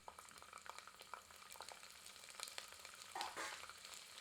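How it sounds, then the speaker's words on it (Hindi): Whole spices, garlic cloves and ginger juliennes fry in hot mustard oil in a pressure cooker over medium heat, giving a soft, continuous sizzle with faint crackles and a brief stir near the end. "अब सारी सामग्री को 1 मिनट मध्यम आंच पर भूनते हैं"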